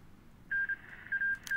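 A telephone is dialed in Hearts of Iron IV, a few short touch-tone beeps in an uneven sequence, clear and close with nothing else heard.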